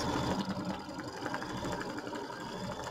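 An embroidery machine stitches a tack-down placement line with a continuous, fairly faint mechanical hum and rapid needle chatter, steady throughout and with no talking.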